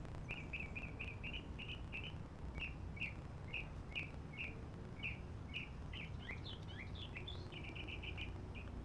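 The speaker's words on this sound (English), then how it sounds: "Let's just listen to the birds." Small birds chirp outdoors in a steady series of quick, high tweets, repeated in short bursts with a brief warbling flourish, moderately distant over faint ambient hiss.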